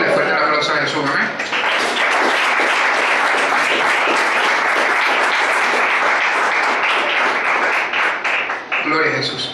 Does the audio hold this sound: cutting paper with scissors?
no